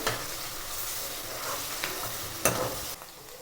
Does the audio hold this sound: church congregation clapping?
no